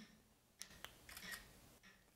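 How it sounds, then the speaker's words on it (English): Shutter clicks from an ACEHE 3-in-1 selfie stick's remote button with a phone camera: a couple of sharp, brief clicks followed by a short burst of capture sound, close and quiet with no talking. "the phone actually picks it up and it doesn't mute the sound of the shutter button"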